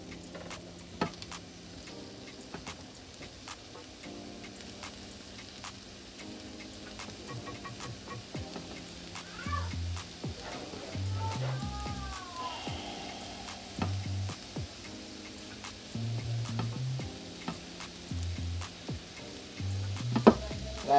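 Shrimp sizzling in a pan while cooking pineapple grilled shrimp, a steady frying hiss with clinks of a utensil stirring, under background noise and some tonal sounds.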